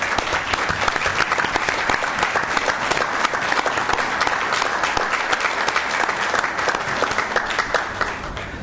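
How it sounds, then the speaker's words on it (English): Audience applause at a Board of Education meeting, a dense, steady round of clapping from a full room that holds evenly for several seconds before easing slightly at the end. "if we can give them a round of applause"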